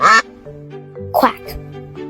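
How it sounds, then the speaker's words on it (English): A duck quacks in a few short nasal bursts, moderately loud and close, with a brief voice at the start. "quack."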